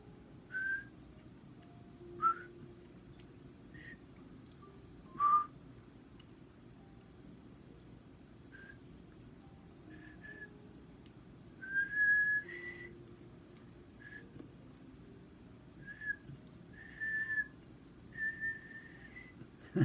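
Scattered, faint whistled notes come and go over a low background hum, short phrases with long gaps rather than a continuous melody.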